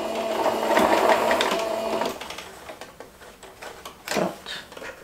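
A sewing machine stitches along the edge of a simple wallet-style handbag, running steadily for about two seconds up close, then stopping, followed by a few soft handling knocks and rustles.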